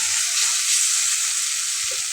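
Boiled potatoes fry in a pan for a potato and lentil dish, giving a steady, close, loud sizzle throughout with no talking.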